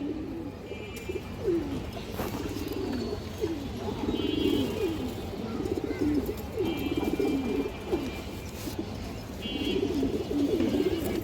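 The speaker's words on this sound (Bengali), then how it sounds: "অনেক সুন্দর একটা কবুতর" A large female pigeon coos close by in repeated low, rolling phrases, with faint chirps of other birds in the background.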